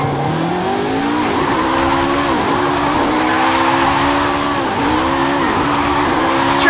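Car drifting in Forza Horizon 5, a short-wheelbase vehicle sliding sideways: a steady engine drone with repeated pitch swoops as it snaps between slides, tires squealing continuously and loudly throughout, no talking.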